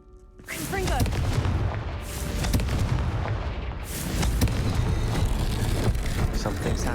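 A Confringo fire-blast spell bursts in Hogwarts Legacy, bringing a loud, sustained explosive roar with booming, crackling surges and a second swell near the end.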